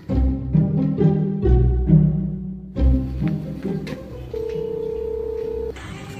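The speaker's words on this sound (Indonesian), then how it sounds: "Telepon." A series of short electronic telephone tones beeps in quick succession, followed by a sustained steady tone, close and clear.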